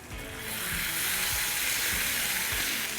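Chili paste frying in hot oil with garlic over low heat, a steady broadband sizzle and hiss holding continuously throughout with faint low pops underneath.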